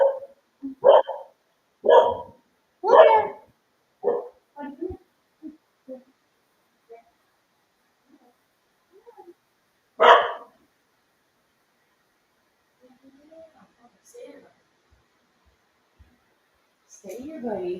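A pet dog named Bear barks in a burst of several sharp barks and yips in a quiet home workout room, followed by a lone bark a few seconds later and faint whimpers.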